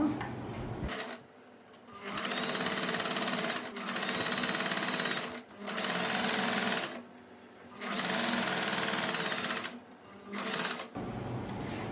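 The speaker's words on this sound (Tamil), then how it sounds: "இப்போ நம்ம தைச்சிக்கலாம்." A sewing machine stitches puff sleeve lining in five rapid whirring bursts, each a few seconds long, separated by short pauses while the fabric is adjusted.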